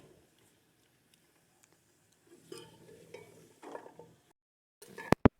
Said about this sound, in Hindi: तकरीबन 5 मिनट तक आलू के साथ हम इसे भूनेंगे अच्छे तरीके से।